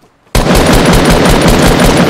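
Rapid automatic gunfire in Fortnite bursts in suddenly after a brief quiet moment, then keeps up a loud, dense stream of shots to the end.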